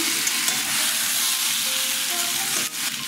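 Potato and pumpkin with coconut sizzling and frying in a pan, with a steady, close hiss and occasional stirring scrapes, no voices.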